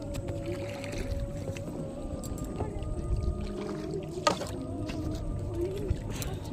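A small boat carries a group of people on a river ride, its steady low rumble and water wash running continuously, with a brief knock partway through and a few voices nearby.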